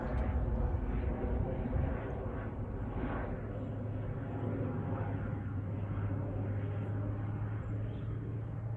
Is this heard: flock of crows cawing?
no